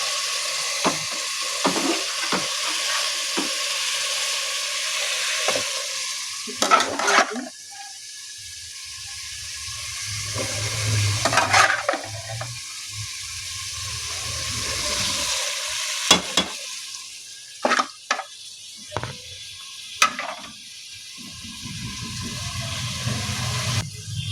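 Chicken and potatoes fry in a pan and are stirred now and then, a steady close sizzle broken by scraping, clattering spoon strokes, with no talking.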